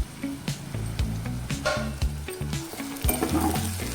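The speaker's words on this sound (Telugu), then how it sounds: "మరో 2 నిమిషాల పాటు ఫ్రై చేసుకోవాలి." Taro root pieces and chopped tomatoes fry in oil in a pan, sizzling steadily up close while a utensil stirs and scrapes through them, with no talking.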